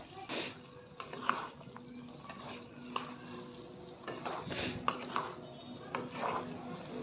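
Chopped mushrooms are stirred and fried in a pan with brinjal, giving a soft continuous sizzle broken by frequent scraping and clinking of the spatula against the pan.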